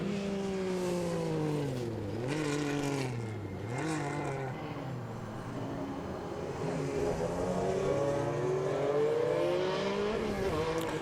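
An MG Metro 6R4 rally car with a rear-mounted V6 four-valve engine accelerates hard around the Goodwood Motor Circuit, roaring loud and close with rising revs broken by repeated gear changes, and no talk over it.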